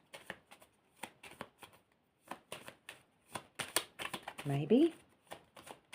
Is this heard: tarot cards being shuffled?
yes